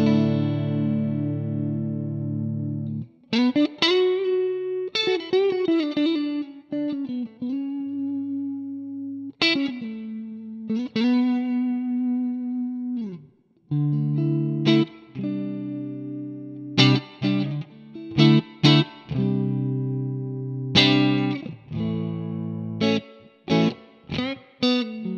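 Clean electric guitar on the neck pickup, a GTRS S801 intelligent guitar, playing melodic phrases and chords with light reverb and delay, notes ringing out alone between short pauses.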